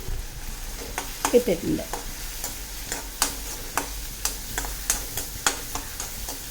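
Onions with turmeric sautéed in a pan for pumpkin masala, with a steady sizzle and sharp, regular scrapes and taps of a spoon against the pan. A voice speaks briefly near the start.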